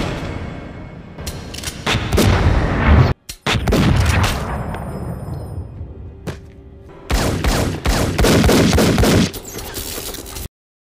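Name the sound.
rapid gunfire in a Matrix film scene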